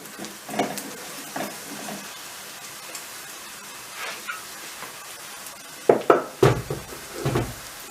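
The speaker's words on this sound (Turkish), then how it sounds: "Bunları da şöyle güzelce malzemelerle karıştırıp kavuruyoruz." Soft sizzling from a pan of frying chopped potatoes runs underneath, broken by scraping stirs and a few louder clatters of a utensil against the pan near the end.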